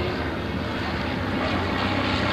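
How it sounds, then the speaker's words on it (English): A 1929 Great Lakes Speedster biplane flies past alongside a SPAD reproduction at a New York airshow, a loud, dense, continuous propeller-engine roar that fills the whole moment with no break. "Look at this beautiful two-ship as they come by."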